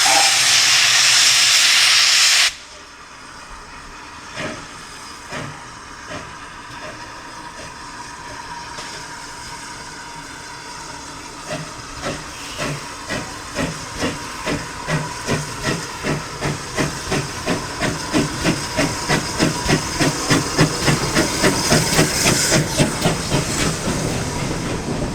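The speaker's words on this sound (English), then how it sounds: "we watch the departure of the auto train, which is now going further down the line as far as Crocombe Heathfield" A loud burst of steam hisses before a steam auto train pulls away from a heritage railway station at a gala, its exhaust chuffs building into a steady, quickening rhythm with clanking wheels as it gathers speed.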